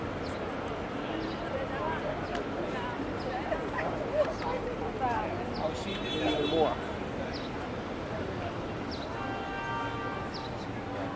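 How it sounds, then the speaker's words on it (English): Dogs yipping and whimpering on a busy Manhattan street in Soho, small, scattered barks mixed into steady street bustle and passing voices, moderately close. "Look at the dogs."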